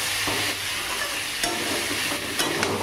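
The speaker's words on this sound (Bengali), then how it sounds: "লতিটা দিয়ে একটু ভালো করে নাড়িয়ে চাড়িয়ে নিই" Taro stolons sizzle steadily in hot spiced oil as they are stirred through, a close, even frying hiss with a few soft scrapes and knocks of the spoon against the pan.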